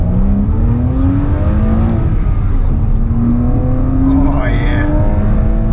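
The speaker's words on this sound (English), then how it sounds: "Driving the Porsche Boxster manual." A Porsche Boxster 987 with a manual gearbox drives hard, its engine revving loudly with climbing pitch sweeps as it pulls through the gears, while a voice briefly exclaims over the engine.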